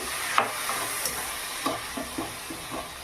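A spice paste for spinach curry is stirred and sautéed in a pan, with a soft sizzle beneath repeated spatula scrapes that land roughly every half second.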